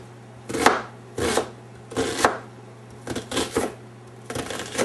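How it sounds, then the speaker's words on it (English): Knife roughly chopping an onion on a cutting board, sounding as about seven separate bursts of strokes, some single and some in quick runs, close and crisp over a low steady hum. "So we're going to do a rough chop on the onion"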